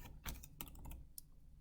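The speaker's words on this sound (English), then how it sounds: "So I'm going to start typing in." Computer keyboard typing while entering a student's name into a school hall-pass system: a few quick clustered key taps close by, with no talk over them.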